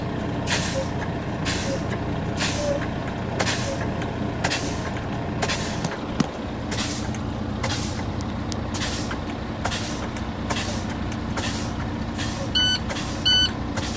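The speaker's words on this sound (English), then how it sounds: "The alarm just came back on at 65." A loud, steady truck engine rumble with a series of regular sharp bursts of a low air pressure alarm in the cab during an air brake test, repeating roughly every second, plus faint beeping near the end.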